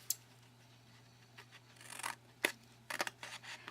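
Scissors snip through paper in a few short, crisp cuts, shaping a V notch for a homemade bath bomb box, with quiet pauses between the close cuts.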